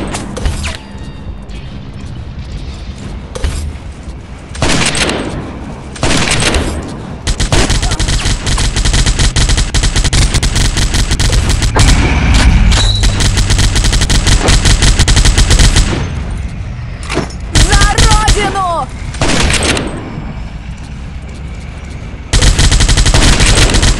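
Heavy gunfire rattles in a World War Heroes shooter match, with sustained bursts of automatic fire and sharp shots from a Mauser 98k sniper rifle, loud and close, cut by brief pauses and booms.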